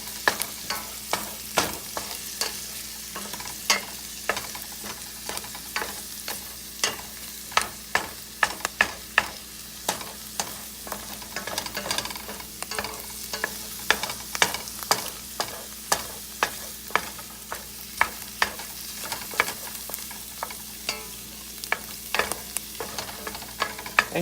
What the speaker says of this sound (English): You're going to just kind of cook all that together and scramble the egg